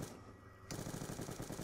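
Rapid automatic gunfire from a Call of Duty Zombies video game, a sustained loud burst of shots that kicks in abruptly after a brief quieter moment.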